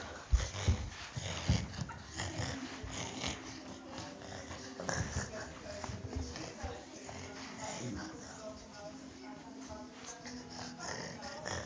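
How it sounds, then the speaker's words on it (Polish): A dog being teased, giving snorts, sniffs and short whimpering noises in a steady busy stretch, with people talking and other background noise around it. "kolega was teraz, e, po, e, teraz prosił, aby mój, kole, mój pomocnik podrażnił pieska przed kamerą"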